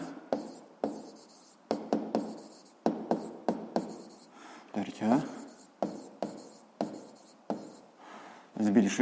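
Pen strokes of handwritten notes on a physics lesson, a series of short scratchy bursts with brief pauses, close and fairly quiet, with a teacher speaking between them.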